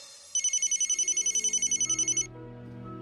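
A telephone rings in a short burst of rapid electronic trills for about two seconds, clear and close, then stops over a low background hum in a Hindi audio drama.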